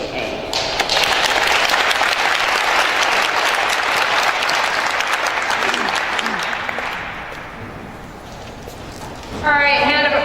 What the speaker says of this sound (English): a round of applause for our fallen colleagues